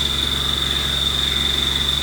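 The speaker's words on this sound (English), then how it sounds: "Again, this is a Haas Mini Mill 2." A Haas Mini Mill 2 high-feed milling titanium with an Iscar cutter, giving a steady, loud machine drone with a sharp, constant high whine running unbroken throughout and no voices.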